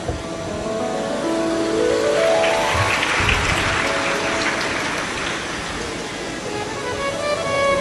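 A large seated audience at an outdoor Shiv Mahapuran religious discourse claps loudly and continuously for a young woman, a dense rain-like patter of hands swelling and holding, with music tones sounding underneath.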